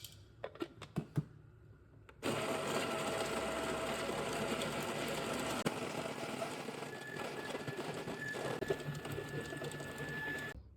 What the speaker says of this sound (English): I'll grind this coffee now.